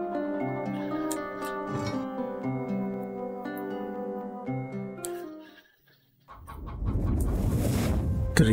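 Undead zombie chickens clucking in the video game Undead Horde, short fowl clucks mixed into steady game music that cuts out briefly, followed by a louder burst of game sounds.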